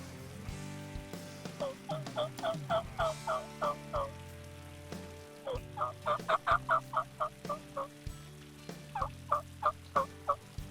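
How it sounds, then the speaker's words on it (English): Wild turkey gobblers gobble in the woods at daybreak, several rapid rattling bursts of gobbles at moderate distance, repeated in clusters across the stretch with quiet gaps between them. "Several gobblers could be heard behind our setup in the first few hours of daylight."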